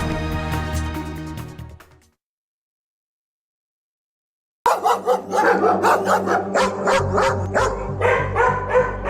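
A stray dog barks in a news report: a burst of sharp, repeated barks and yips follows a stretch of silence, loud and close, with an earlier tonal passage before the gap.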